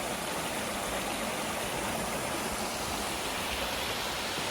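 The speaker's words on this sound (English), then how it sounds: "One last view of the waterfall." A small tiered waterfall on the Appalachian Trail pours with a steady, dense, full-bodied rush of water, close and unbroken, with no voices.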